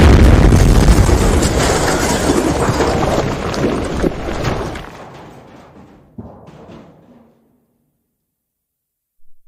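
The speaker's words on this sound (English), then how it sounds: "What was that explosion?" A loud, deep explosion in a video game booms and rumbles, slowly fading over several seconds before a sharp thud and then silence.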